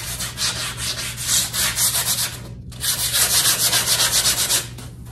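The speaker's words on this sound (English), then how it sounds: "once I sand it, then obviously I will wipe it away with a cloth" Sandpaper rubbed by hand over a painted artwork surface in steady, rhythmic back-and-forth strokes, close and fairly loud, broken by one short pause.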